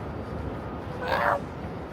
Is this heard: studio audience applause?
no